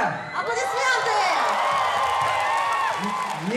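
An anime music video festival audience applauds and cheers, a dense, steady wash of clapping with whoops and shouts sustained throughout, loud and close.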